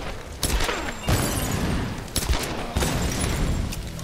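Gunfire in the Tomb Raider video game, heavy booming shots arriving in several bursts a second or so apart, loud and close against a rumbling background.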